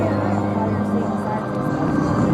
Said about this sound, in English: This specific helicopter is from Marine Heavy Helicopter Training Squadron 302 from Marine.